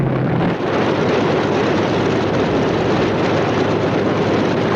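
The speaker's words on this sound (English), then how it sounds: "US dive bombers, approaching unseen at high altitude" World War II US dive bomber aircraft engines, a loud continuous roaring drone that holds steady throughout, dense and unbroken with no voices over it.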